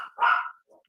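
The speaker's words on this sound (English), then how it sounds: "do you guys hear the dogs? They're running through the house" Dogs barking indoors as they run through a house, one loud burst of bark-like sound followed by a softer, shorter yip, fairly close.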